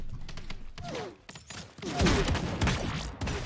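Burst rifle fire in the fantasy battle royale game Realm Royale comes in quick repeated volleys, loud and close, mixed with other game effects and shifting in intensity.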